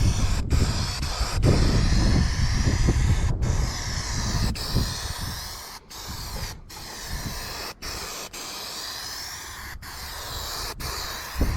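Aerosol spray hissing onto the back of a folding garden kneeler during a repair, in repeated bursts separated by short pauses, close and fairly loud.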